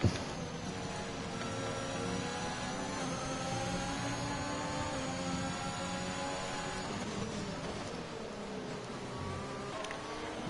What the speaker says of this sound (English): The main thing I've noticed is the engine noises aren't as nice.